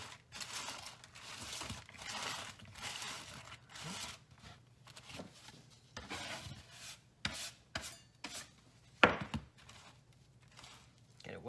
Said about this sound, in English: Mix them up a little bit. I like to also use my hands.